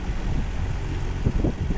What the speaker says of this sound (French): Donc tant pis, je laisse le moteur, à mon grand regret.